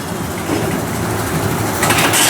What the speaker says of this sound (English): I'll take a moment to watch the roller coaster go here